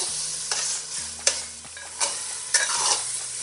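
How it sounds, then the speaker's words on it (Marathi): Mutton tossed into masala frying in oil and stirred, with a sizzling hiss and several sharp scraping strokes of the spoon against the pan, close and alone apart from faint low background tones. "मसाल्याने तेल सोडलं का मग आपण याच्यामध्ये मटण टाकूया."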